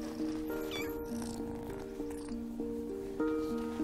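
Young kittens mew in a rapid series of short, high, tonal cries, several small voices overlapping close to the microphone with little pause between calls.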